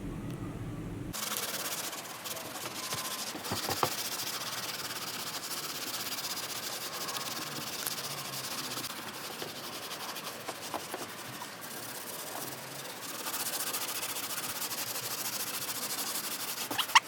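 Steady, close scrubbing of paint stripper gel on a painted surface, a continuous coarse rubbing hiss with brief scraping accents, running uninterrupted after a short quiet start.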